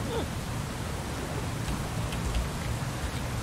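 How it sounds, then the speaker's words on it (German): Steady rain in the Bus Simulator 18 video game, a dense even hiss of falling water at night, constant and unbroken throughout with no talk over it. "Es regnet schon wieder und es ist dunkel"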